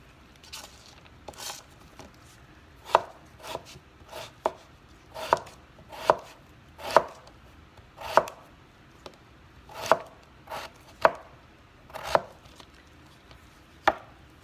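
Beetroot is cut with a knife on a board for an easy beetroot curry, a steady series of about fifteen crisp chops at a moderate, slightly irregular rhythm, close and distinct with no speech.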